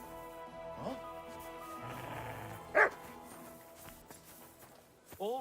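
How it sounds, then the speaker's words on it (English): A dog in the Kingdom Come Deliverance 2 video game gives a few scattered barks and yips at moderate distance, mixed with background game music and a voice speaking. "What's gotten into that dog?"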